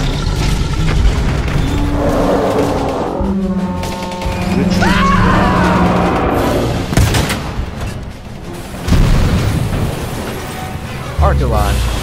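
Cannon fire and explosions from a video game coastal siege battle, with heavy booms and blasts layered under continuous loud combat noise and voiced character dialogue.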